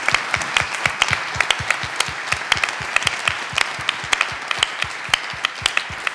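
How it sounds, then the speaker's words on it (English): An audience at a closing town hall of a policy summit gives a steady round of applause, many hands clapping loudly and continuously throughout. "give a round of applause for Georgetown, the students,"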